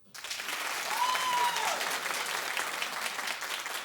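A studio audience at a daytime talk show bursts into applause, a loud sustained wash of clapping with a few whoops that starts abruptly and stays strong to the end.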